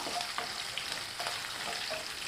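Chopped green chilies are stirred into tomato rice frying in a pan, a close, continuous sizzle with soft scraping strokes of the spoon.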